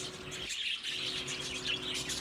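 A male budgie gives soft, rapid chirps and twittering warbles close by indoors, a continuous chatter with a brief dip partway through.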